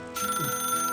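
A telephone rings with a steady electronic bell tone that starts abruptly and sounds loud and close, with no talk over it.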